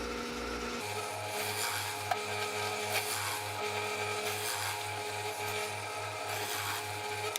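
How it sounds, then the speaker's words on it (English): A plug cutter in a drill bores plugs out of poplar wood, giving a steady rhythmic motor hum with a regular pulsing beat and a rough cutting rasp throughout, fairly faint. "I decided to test cutting plugs out of poplar"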